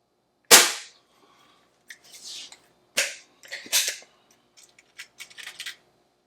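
An Umarex Trevox air pistol fires on an indoor 10-meter range: one sharp, loud crack, then a second a few seconds later, with lighter clicks and mechanical clatter in between and after, and no talking.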